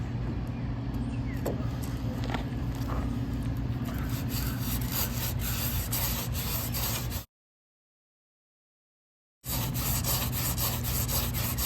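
Steady rubbing and scraping friction of a horseweed hand drill spindle twirled fast between palms for a friction fire, with a low droning hum beneath; it breaks off briefly, then resumes.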